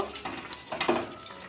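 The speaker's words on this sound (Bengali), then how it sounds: "এখন অনবত নেড়ে চেড়ে আমি চাটনিটা রান্না করে নেব" Bengali-style pineapple chutney with cashews and raisins is stirred in a pan over low-medium gas, giving soft, close scraping strokes over a gentle sizzle.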